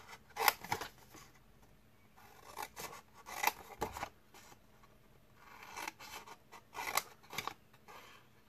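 Scissors snipping through sections of scored card while a desk tidy is being made, in several quick bursts of close, crisp cuts with short pauses between them.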